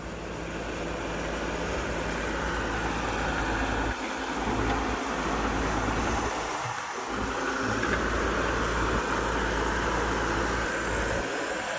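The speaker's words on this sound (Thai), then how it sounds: "เสียงเครื่องยนต์ที่ฟังรู้เลยฮะ" A Hino truck with a large JO8 diesel engine runs steadily, giving a continuous low rumbling drone with little change in level throughout.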